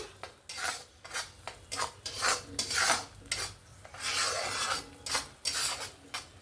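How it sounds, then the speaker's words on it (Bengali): Spice paste being stirred and fried in a pan for a fish curry, with a spatula scraping and rasping against the metal in close, uneven strokes over a soft sizzle, no voices. "সমস্ত মশলাটা দিয়ে ভালো করে নাড়াচাড়া করে নেব মশলাটাকে এক দু মিনিটের মতন কষিয়ে নেব"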